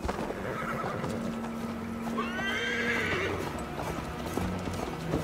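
A horse in the video game Assassin's Creed Valhalla clip-clops steadily while ridden, gives a clear whinny partway through, and a low ambient game soundscape runs underneath.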